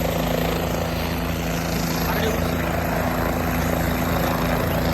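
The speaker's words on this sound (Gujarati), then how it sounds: "આ હેલિકોપ્ટર છે અત્યારે શરૂ થયું છે" A helicopter engine starting up on the Kedarnath route runs with a continuous high whine and steady rotor drone, a constant mechanical roar from nearby.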